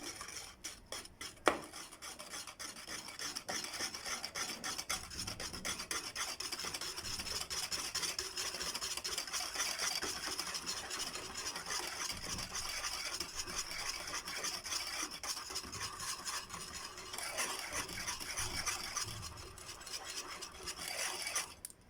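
Basbousa batter with carrots is stirred steadily in a bowl, a continuous close rasping and rubbing scrape of the utensil that keeps going with a few brief knocks and no talk.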